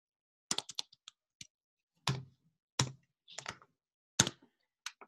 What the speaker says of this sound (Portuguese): Deixa eu digitar aqui para ela.